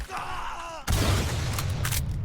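An explosion in the video game Watch Dogs Legion bursts in suddenly with a loud, close, rumbling blast that follows a brief droning tone and carries on as a sustained crackling roar.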